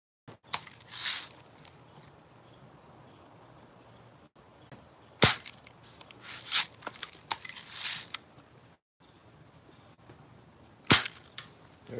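Red Ryder 1938B BB gun shots during plinking, heard as several sharp, close cracks with quiet gaps between them and a few softer clicks and rustles from handling.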